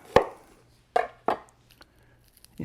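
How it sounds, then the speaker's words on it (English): A small kitchen knife cuts a shallot open on both sides, giving three sharp, close chopping taps on a board with pauses between, then a fourth starting at the end. "we're gonna open the shallot up on both sides, like so."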